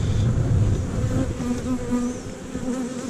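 Honey bees buzz steadily and densely around an open hive during an inspection, a close, continuous drone with no talk.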